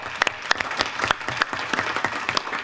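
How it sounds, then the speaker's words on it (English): Applause at a school board regular meeting, a dense round of clapping from the audience with a few sharper claps standing out, steady throughout. "Let's give them a round of applause."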